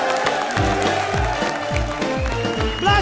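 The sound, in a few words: loud applause from studio audience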